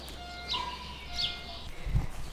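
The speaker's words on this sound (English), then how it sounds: "Hear the birds." Faint bird chirps sound twice, brief high calls spaced apart over a steady background hum, followed by a low thump.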